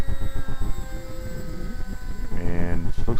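An electric model airplane flies over Pike Lake, a steady tonal motor whine with a rising pitch near the end, heard alongside a person speaking.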